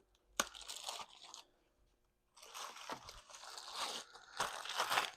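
Plastic wrapping is cut and torn off the front fender of a Rerode R1 electric dirt bike, close crinkling and ripping bursts with a short pause between.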